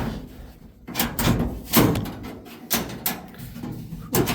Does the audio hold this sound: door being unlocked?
yes